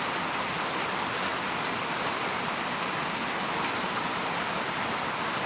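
Rain falls steadily outside on a ranch, a loud, dense, continuous hiss of drops on surfaces with no break and no voices.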